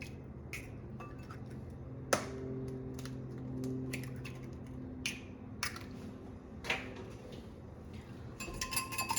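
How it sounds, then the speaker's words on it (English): Two large eggs are cracked against a bowl for scone batter, with a few sharp, distinct taps and cracks spread apart, then a quick run of light clicking as they are whisked, all close and fairly quiet. "you're gonna crack in 2 large eggs"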